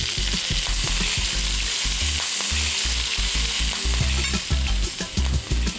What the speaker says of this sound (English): It does splutter a bit, so just be careful when you're working with the lamb and turn that over.